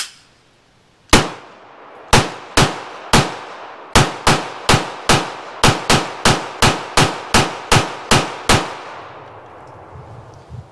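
A Walther PDP pistol fires a full magazine on an outdoor range: about fifteen sharp, loud shots with ringing decay, spaced irregularly at first, then in a steady quicker cadence, each report standing alone with no talk.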